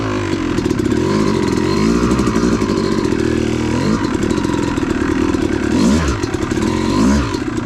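A Yamaha YZ250 two-stroke dirt bike engine runs loud and close throughout, its revs rising and falling with rough clattering on an OHV trail.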